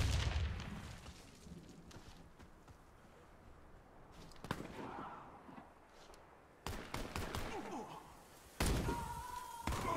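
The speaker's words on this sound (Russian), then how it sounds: "Осторожно, граната!" A grenade blast in the shooter game Warface, with several sharp booming bursts and slams spread through the clip over a low background rumble, and voices faintly under the din.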